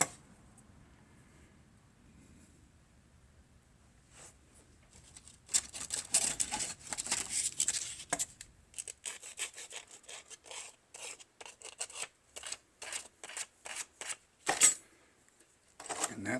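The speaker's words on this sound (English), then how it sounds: "I'm just going to freehand it with some scissors on a thin bit of plastic." Scissors freehand-cutting a thin piece of plastic for a model vent shroud, heard as a run of close, dry snipping and rasping strokes that grows busier halfway through, with one sharper click near the end and no talk.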